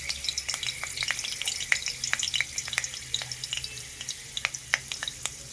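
A bay leaf sizzling in hot oil for dhal, with a dense crackle of quick spits and pops over a soft frying hiss, close and moderately quiet, with no talking.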